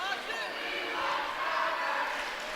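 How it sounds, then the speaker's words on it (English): Crowd chanting in a high school gym during a boys basketball district playoff game, a broad sustained roar of many voices filling the hall at steady loudness. "Now the crowd is saying, we want Trevor, as in junior Trevor McGee."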